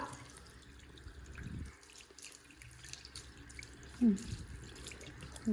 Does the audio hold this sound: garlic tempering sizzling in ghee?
no